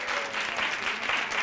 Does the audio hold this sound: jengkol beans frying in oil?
no